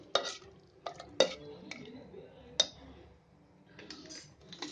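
A spoon stirs and scrapes vegetable biryani rice inside a pressure cooker, with several sharp clinks against the metal at irregular intervals, quiet and close.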